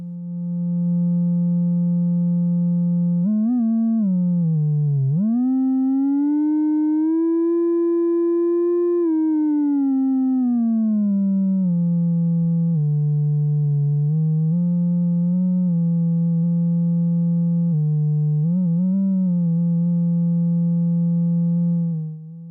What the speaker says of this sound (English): Right now, we are hearing the sine wave.